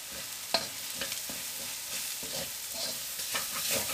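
Masala powder frying in a pan for a street-style chicken kothu chapathi, a steady close sizzle with recurring soft scraping stirs across the whole stretch and no voices.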